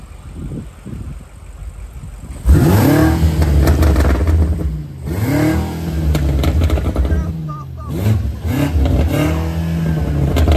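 A BMW M8 Competition with catless downpipes and Eventuri intakes revs hard from idle in three loud, close bursts, each climbing sharply and falling back to a rough, throaty idle.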